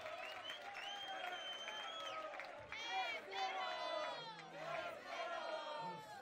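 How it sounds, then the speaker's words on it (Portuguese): Crowd at a Brazilian freestyle rap battle final breaks into clapping, cheering and shouted cries, a dense, loud wash of voices and hands with a few louder whoops rising midway. "Palmas, amigo, palmas"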